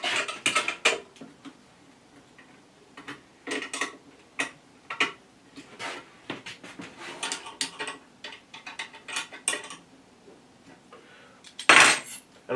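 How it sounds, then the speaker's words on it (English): A metal spanner locks up a fitting on a DS300 disc unit during installation, giving sharp, irregular metallic clinks and taps close by, with a louder clatter near the end. "Okay, so I'll put the spanner on now,"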